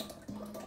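Kefir pours into a blender cup in a short, steady liquid stream with a soft splashing onset, close and quiet, alone without talk.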